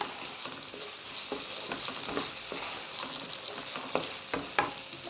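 Tomato sauce is stir-fried in a pan, giving a continuous hiss. Scattered crackles and spatula scrapes sound through the hiss, and no one talks.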